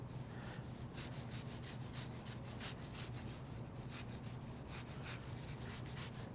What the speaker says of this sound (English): hold the lemon and run the microplane right over it